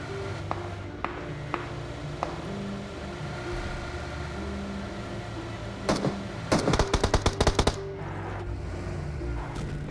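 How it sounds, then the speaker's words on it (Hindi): Rapid bursts of automatic gunfire crackle in a tense video game fight, a quick cluster of sharp shots midway over a steady engine-like drone from a boat. "मेरे को एक फायरिंग की आवाज़ आती है।"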